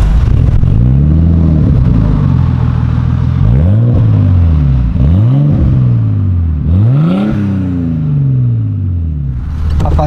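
A Nissan Skyline's RB25DT turbocharged straight-six revving hard, with repeated rising and falling sweeps of engine pitch, loud and close, with a sharp blip near the end.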